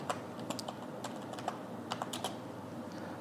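Fingers type text on a computer keyboard in short, irregular bursts of light clicks and taps, close and clear over a faint background hum.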